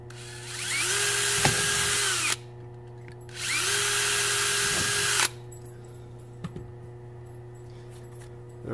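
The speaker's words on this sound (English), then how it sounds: "you just stick your drill bit down through those holes, and you drill a hole" A power drill bores holes in a portable power box: two loud, steady whining runs of about two seconds each, the pitch dipping and rising at the ends, followed by light clicks and handling.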